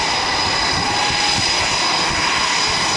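Navy fighter jet passing overhead during the 2012 NAS Oceana airshow Legacy Flight, a steady, loud engine roar with broadband rumble and hiss holding constant throughout, no voices.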